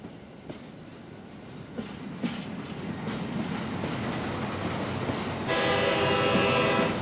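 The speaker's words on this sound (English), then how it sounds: "I'm just curious if the next train is going to, essentially by random chance, be a Sasso" In the Hitman video game, a train rumbles past with rhythmic clattering that slowly builds, and near the end a loud, sustained horn sounds over it.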